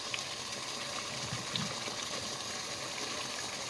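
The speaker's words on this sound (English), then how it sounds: "I'm just going to stir it in this water for about 3 minutes" Quinoa is stirred in a pot of water, giving a faint, steady swishing and sloshing of liquid with small splashes, heard close and quiet with no voices.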